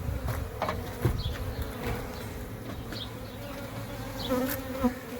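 Honeybees swarm around an exposed hive built inside a brick chimney, their buzzing a faint, continuous drone with individual bees passing close now and then.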